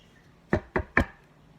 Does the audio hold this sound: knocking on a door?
yes